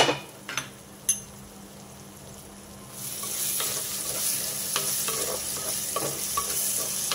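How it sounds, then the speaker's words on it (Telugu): Onions softening in a pan for a taro root tamarind stew, a steady sizzle that rises from near silence after a few seconds, broken by small scraping knocks, with no talk. "ఉల్లిపాయలు కాసేపు మగ్గనిద్దాం."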